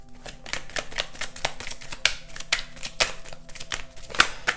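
Tarot cards being shuffled and drawn, a dense run of quick papery flicks and snaps, close, with a faint hum behind and no clear speech.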